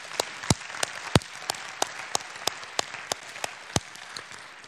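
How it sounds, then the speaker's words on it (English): An audience applauds Fred and his wife Jill Cornforth at a church year-in-review gathering; sparse, scattered claps ring out against a steady murmur of clapping, fairly close and moderately loud. "Let's give Fred a hand"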